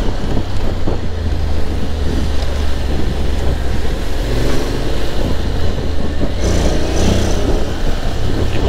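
A 2024 Honda X-ADV scooter pulls away hard from a standstill, its engine roar heavily buffeted by loud wind noise on the microphone throughout, with no talking.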